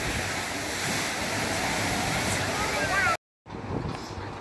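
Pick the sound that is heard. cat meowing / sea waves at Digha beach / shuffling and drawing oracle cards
sea waves at Digha beach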